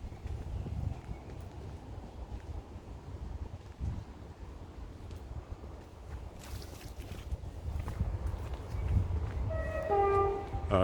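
A train horn blows in the last couple of seconds as a sustained, tonal blast, heard over steady outdoor rumble during an evening walk.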